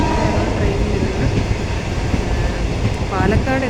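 A passenger train rolls through Kerala toward Palakkad, heard from a seat on board. A loud, steady rumble and rattle of wheels and carriage runs throughout, with a brief voice near the end.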